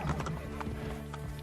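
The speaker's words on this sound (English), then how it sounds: "Let's get back on this horse and make sure he's actually still mine." Horse in the video game Assassin's Creed Brotherhood, a brief burst of hoof clip-clops with a snort or whinny, over a steady low game soundtrack.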